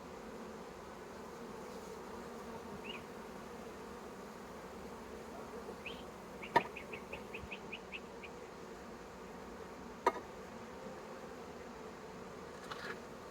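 Honeybees hum faintly and steadily around open hive frames holding young brood during a swarm-control hive inspection, with a few sharp knocks and a short run of light clicks partway through.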